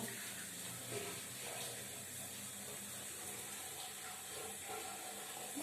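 Hot water is tipped from a pot into a sink basin, making a soft, continuous splashing rush that stays fairly faint and even throughout, ending in a brief clatter.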